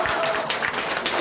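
Audience clapping at a business rewards talk, a brief steady patter of many hands lasting about a second at moderate loudness.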